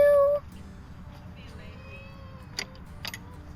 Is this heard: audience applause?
no